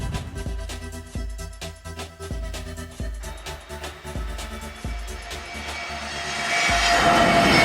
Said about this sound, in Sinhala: එකපාරටම මේ සී ප්ලේන් එකක් ගියා